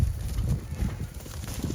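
Horses moving about on the ground, including Blaze, a nervous new horse among the herd, with soft irregular hoof thuds and clip-clops close by, steady throughout with no talk.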